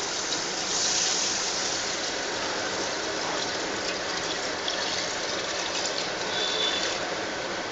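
Water pouring steadily into a pot of soaked rice with cashews for Andhra-style bagara rice, a continuous splashing gush that stays even and fairly close for several seconds.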